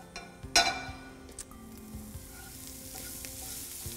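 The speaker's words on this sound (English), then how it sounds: "I'm gonna take these guys, saute them in olive oil" Corn kernels sautéing in olive oil, a soft steady sizzle behind a sharp clink of a utensil against the pan early on, followed by a few lighter knocks and stirring sounds.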